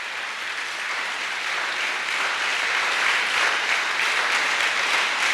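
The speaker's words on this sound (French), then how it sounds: "Est-ce que tous les hommes peuvent acclamer les femmes, ces braves dames, ces bâtisseuses?" Men in a church congregation applaud and cheer for the mothers, a sustained wash of loud clapping filling the room without speech over it.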